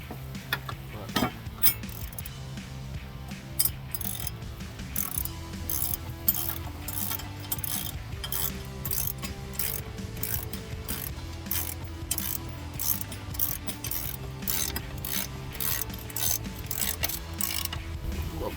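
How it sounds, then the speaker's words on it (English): A hand ratchet clicks in quick, steady bursts while tightening a locking nut on Barricade 5-inch oval bent-end side step bars on a 2019-2022 RAM 1500, close and crisp, with no talking. "Locking nut. Now, just tighten this one down"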